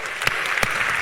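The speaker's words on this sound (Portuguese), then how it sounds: "Palmas." Audience members clap at a live podcast event, a short burst of dense, even applause from a room of people.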